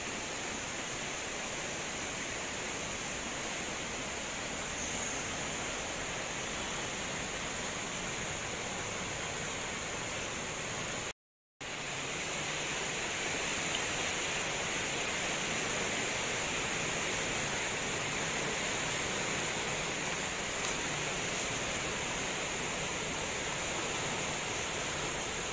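The Babolon River flows through a city park in Pematang Siantar with a steady, even rushing hiss that holds for the whole span apart from one brief dropout near the middle.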